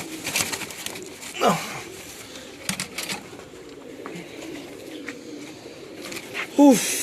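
Pigeons in a loft in Lahore coo in low, rolling calls, with one clear coo near the end, amid wing flutters, handling noise and a person speaking.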